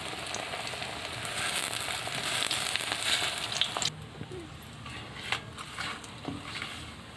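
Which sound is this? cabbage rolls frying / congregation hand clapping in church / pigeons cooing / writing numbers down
cabbage rolls frying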